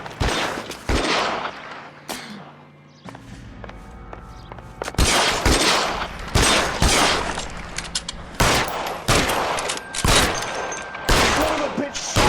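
Gunfire in the L.A. Noire video game, with repeated loud shots and bursts cracking across a steady ambient bed, some rapid clusters like a fusillade and a brief quieter lull early on.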